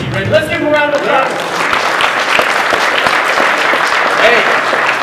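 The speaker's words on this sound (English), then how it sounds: "Let's give him a round of applause" An audience at a clinic breaks into loud, steady applause, a thick close wash of many hands clapping together, with voices talking and calling out over it.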